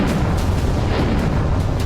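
A deep, rumbling boom from a North Korean ballistic missile launch rolls on as a dense, roaring blast of low noise, loud and sustained throughout without any voices.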